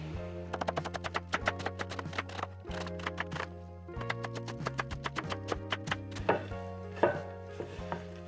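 A knife chops cabbage for sauerkraut in fast, steady strokes on a board, each cut a crisp knock, continuing without pause and fairly close, with no talking.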